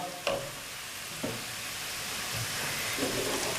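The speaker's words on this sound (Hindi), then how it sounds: "प्याज हम फ्राई करेंगे गोल्डन फ्राई होने तक" Onions frying in a kadai until golden brown give a steady sizzle, with a few stirring scrapes and clinks over the hiss and no talk.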